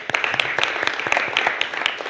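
Panelists get another round of applause at a science and development finance event: a lively, close burst of many hands clapping at once, with sharp individual claps standing out above the steady crowd noise.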